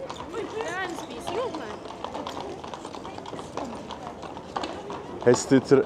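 Horse hooves clip-clop at a steady gait amid busy background chatter, with a few louder, closer hoof strikes near the end.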